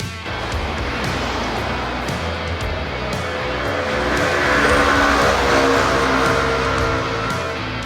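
A Voyager 125cc scooter being ridden uphill, its engine drone steady and close alongside heavy wind rush, swelling slightly in loudness midway through.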